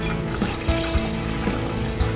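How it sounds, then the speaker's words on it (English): Warm water poured into a mixing bowl of yeast for gluten-free pizza dough, a steady close splashing pour running throughout with no talking. "I'm gonna put in my water."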